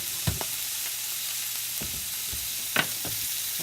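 Seasoned burger patties fry in a skillet with a steady, soft sizzle throughout, broken by a few scattered thuds and clinks from utensils against the pan.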